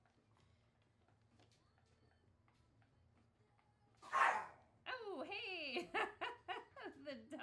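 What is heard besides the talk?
dog barking and whimpering unhappily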